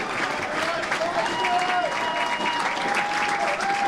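A football crowd at a National League South match applauds a substitute coming on, steady rolling clapping heard from a distance across the ground, with faint talk layered over it.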